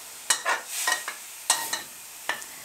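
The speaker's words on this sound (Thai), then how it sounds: "พอหมูได้ที่แบบนี้นะคะใส่กะทิลงไปค่ะ" Pork cooking in a pan as coconut milk is added, with a soft sizzle under several distinct scraping strokes of a utensil stirring the pot, close and fairly quiet.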